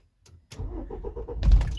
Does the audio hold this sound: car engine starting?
yes